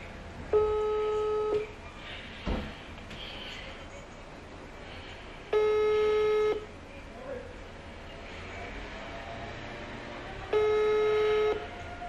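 A phone calls someone back: three long ringback tones repeat at about five-second intervals over quiet room noise, with a faint voice or thump between rings.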